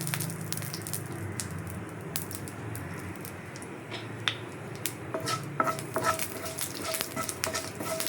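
Mustard seeds and curry leaves go into hot oil for a Mangalore-style egg curry, giving soft sizzling with scattered sharp pops and spatula scrapes against the pan, close and without talk.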